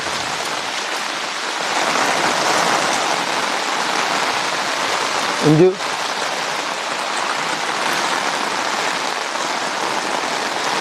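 Steady rain pours onto floodwaters in a flooded village, a dense, even hiss throughout, with a brief muffled knock near the middle.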